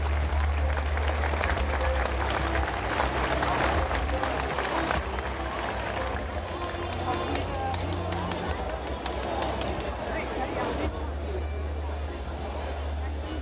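A crowd claps at the Zundert flower parade in 2011, with sustained dense applause mixed with crowd chatter and voices that gradually thins toward the end.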